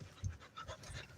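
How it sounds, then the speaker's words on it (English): A dog pants in quick, breathy bursts close by, with a few louder low puffs, heard alone without talk. "You crazy dog."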